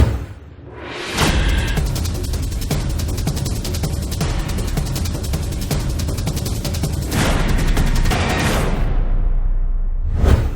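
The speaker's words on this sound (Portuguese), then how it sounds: "O celular causa sim explosões." A fuel station explosion set off in a mobile phone test erupts as a sustained, loud roaring blast with crackling bursts, rushing and rumbling for several seconds before dying away.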